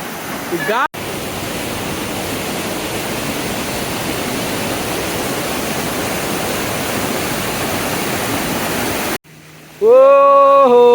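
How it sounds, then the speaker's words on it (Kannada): A loud, steady roar of falling water fills most of the clip, then cuts off abruptly to a brief rising electronic tone. "ಅದ್ಭುತ ಫಾಲ್ಸ್ ಮಾತ್ರ ಇದು ವಾವ್ ಫಾಲ್ಸ್ ಮಾತ್ರ ಸಕ್ಕತ್ತದೆ"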